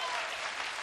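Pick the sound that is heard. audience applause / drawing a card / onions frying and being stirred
audience applause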